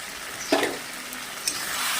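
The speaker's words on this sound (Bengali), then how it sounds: "এটা হচ্ছে গোবিন্দভোগ চাল চলো এটা এবার দিয়ে একটু কষিয়ে নেব" Gobindobhog rice is sautéed into katla fish-head curry, a short close-up frying hiss with two sharp scraping stirs about a second apart.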